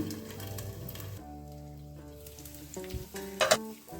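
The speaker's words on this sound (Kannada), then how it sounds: "ಸ್ವಲ್ಪ ಕೊಬ್ಬರಿ ಎಣ್ಣೆ ಹಚ್ಚಿ ಹಾಕಬೇಕು ಇದಾಕಿ ಒಂದು ಐದು ನಿಮಿಷ ಬೇಯಿಸ್ಕೊಳ್ಳೋಣ" Sliced kohlrabi fries in coconut oil on a flat tava, giving a soft, continuous sizzle with a few sharper crackles and pops near the end.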